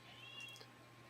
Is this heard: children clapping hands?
no